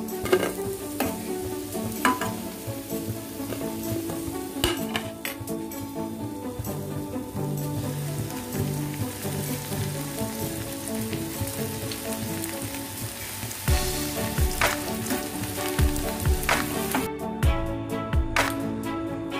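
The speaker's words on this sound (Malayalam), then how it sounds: "ഇതുപോലെ നമുക്ക് എല്ലാ ബ്രെഡും ഇങ്ങനെ ഫ്രൈ ചെയ്തെടുക്കാം." Bread slices fry in a pan for bread halwa with a continuous close sizzle, while occasional scrapes and taps of a utensil against the pan break in.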